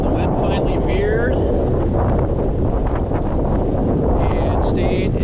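Steady, loud wind roars and buffets against the microphone aboard a sailboat on Lake Michigan, a continuous rushing noise with faint voices underneath.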